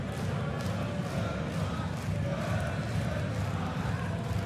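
A darts crowd cheers on Gerwyn Price at the Nordic Darts Masters, a steady wash of voices and shouts filling the hall at even loudness under commentary.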